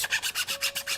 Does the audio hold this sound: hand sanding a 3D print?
yes